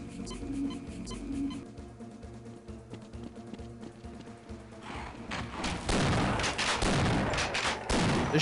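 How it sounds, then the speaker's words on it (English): Shotgun blasts in Half-Life: Blue Shift, a dense run of loud, booming shots with mechanical clatter, rapid and close after a quieter stretch of game ambience. "The shotgun is way worse, sound-wise. I don't like this new shotgun."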